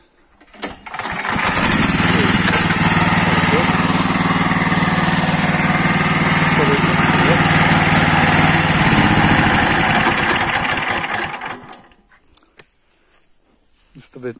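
Engine of a Hasatsan H130 Pro farm machine starting and running steadily for about ten seconds, loud and close, before cutting off and leaving quiet background.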